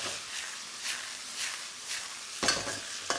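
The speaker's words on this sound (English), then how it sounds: "I want to make sure it's got all that heat to seal the chicken nicely" Corn-flour-coated chicken sears in a hot wok for a spring onion and ginger stir fry, a steady close sizzle swelling in soft waves, with a couple of sharp clinks near the end.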